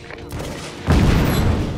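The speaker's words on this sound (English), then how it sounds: "Oh god. Big explosion." Big explosion in the video game Just Cause 3, a sudden loud boom with rumbling blast and crackling debris swelling midway over background game noise.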